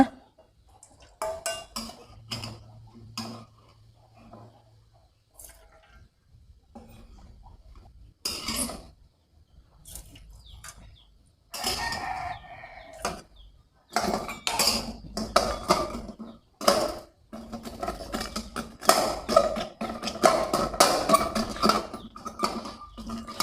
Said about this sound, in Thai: ขั้นตอนถัดไปเดี๋ยวตักน้ำมันออกเลยนะคะ